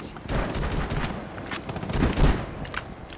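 Revolver-style sniper rifle gunfire in a video game: a run of sharp, loud shots fired close together, with heavy low booms amid dense battle noise and faint voices underneath.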